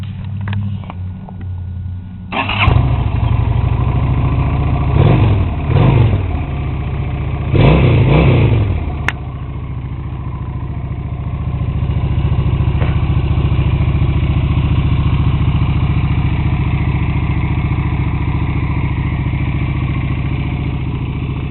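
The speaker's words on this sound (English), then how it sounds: "That's my bike. My 2008 Honda Shadow Aero 750." A 2008 Honda Shadow Aero VT750C starts up cold with the choke on, a few rough revs, then settles into a loud, steady, close idle that holds to the end.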